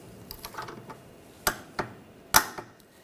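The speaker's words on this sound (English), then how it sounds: "Now we're going to torque this to 52 foot-pounds." A torque wrench clicks and ratchets in a few sharp, separate ticks, with two louder snaps, as a front lower rearward control arm bolt is tightened on an Audi A4 Quattro in a quiet workshop.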